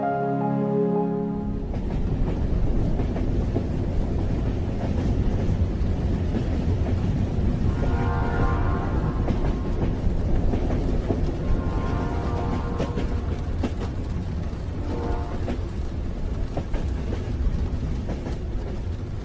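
A train rumbles steadily along the rails, with a low continuous roar and faint rhythmic clatter, heard from inside and no one talking.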